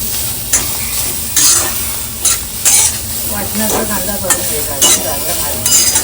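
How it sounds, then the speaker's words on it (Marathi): Onions roasting in oil in a pan until pink for a spicy Marathi-style crab curry, with a steady loud sizzle and periodic scraping stirs of a spatula against the pan. "तर आता आपण कांदा भाजून घेऊया गुलाबी होईपर्यंत"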